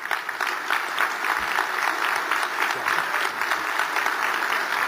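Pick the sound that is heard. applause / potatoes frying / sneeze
applause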